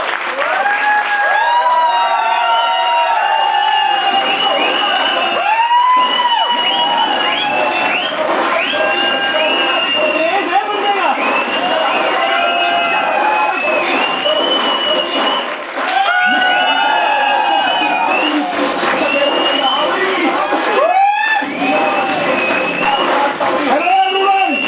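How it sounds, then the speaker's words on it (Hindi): A large indoor audience at a motivational training event claps loudly and continuously, with a few cheers mixed into the steady applause throughout. "सो जोरदार तालियां हो जाए"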